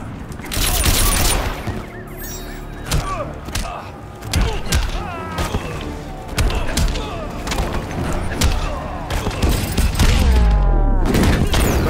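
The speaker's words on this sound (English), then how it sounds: "Gunshots." Rapid bursts of gunfire from Red Hood in Injustice 2 crack over a busy mix of booms, thuds and music, with a voice talking at times.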